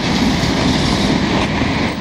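A long CN freight train with mixed cars rumbles past steadily and close in Montreal, Quebec, a continuous rolling roar of wheels on track with faint clatter throughout.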